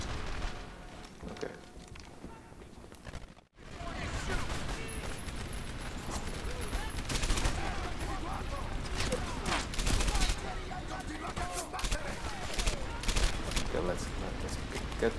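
Heavy anti-aircraft gunfire and fusillades in the Medal of Honor Airborne video game, sustained rapid bursts with booming impacts rolling through the whole stretch, loud and dense, with a brief dropout near the start and a voice speaking under the battle.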